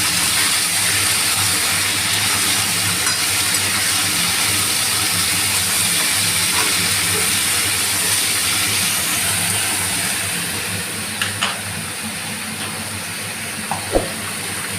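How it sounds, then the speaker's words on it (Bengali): Vegetables fry in a kadai wok for a prawn dish, giving a dense, even sizzle that stays loud, eases slightly near the end and has a few faint clinks. "এবার সব সবজিগুলো আমরা কড়াইয়ের মধ্যে ছেড়ে দেব।"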